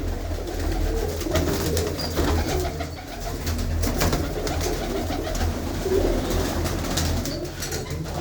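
Pigeons coo steadily and softly nearby over a constant low hum of background noise, with no voices.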